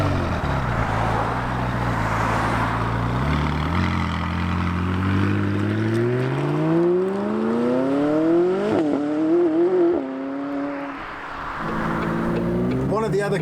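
A McLaren 570S engine revs loud and close, its pitch sweeping up through rising gear-like runs and sharp blips before settling into a lower idle, with a voice talking over it.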